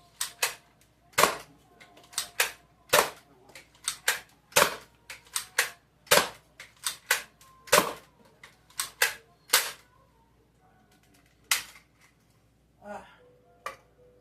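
Nerf blaster firing Nerf Pro darts, roughly fifteen sharp, loud snapping shots in an irregular rapid rhythm, close by, each with a short clattering tail, ending in softer mechanical clicks.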